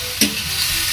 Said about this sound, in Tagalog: So igisa pala itong apat na ito bago ilaglag itong laman